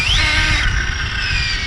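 An Arrma Infraction RC car on a speed run makes a high, whining drivetrain chirp over steady rushing noise and wind, loud and continuous with a rising squeal at the start.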